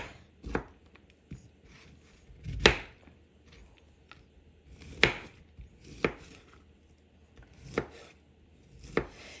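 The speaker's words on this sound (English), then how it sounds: "the longest prep thing is cutting your vegetables up" A knife chopping vegetables for a homemade veggie pizza: about eight sharp, irregular chops land close by on a board, with quiet gaps between them and no talking.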